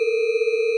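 A synthesized dissonant chord built from the overtones of a bar holds a steady, buzzing electronic tone with a few bright upper partials, loud and alone.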